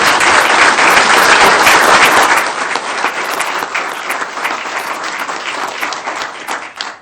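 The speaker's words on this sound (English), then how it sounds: "If you guys give me a round of applause for that." Loud applause in a city council chamber for a firefighter's wife and two sons, many hands clapping densely at first, then thinning into scattered claps before fading out.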